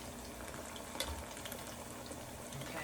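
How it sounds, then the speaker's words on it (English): Food frying in a pan while making pastelon cups, a steady broadband sizzle with fine crackling pops and one sharper crackle near the middle, close and even throughout with no voices. "So all we're doing is frying and putting aside."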